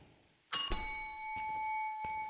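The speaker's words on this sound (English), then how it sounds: "Hit the bell." A small hand bell in the Phasmophobia ghost-hunting game is struck, a bright metallic ding with a quick second strike that rings on with a sustained tone, followed by faint soft knocks.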